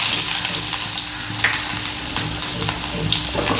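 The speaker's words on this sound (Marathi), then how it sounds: "इथे गॅसवर मी कढईत तेल तापत ठेवलं आहे. तेल आता बऱ्यापैकी गरम झालं आहे. त्याच्यात आपण सगळ्यात प्रथम कांदा घालूया." Onion frying in hot oil in a wok over a gas flame gives a loud, steady, close sizzle with crackling bursts and occasional stirring scrapes, with no talking.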